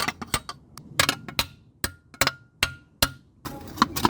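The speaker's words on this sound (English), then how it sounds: "I'm gonna hammer them down a bit." Metal hammer blows flattening the sharp edges of a replacement brake shield on a first-generation Toyota Yaris, a string of about a dozen sharp, ringing strikes in uneven rhythm, close and loud, with short pauses between groups.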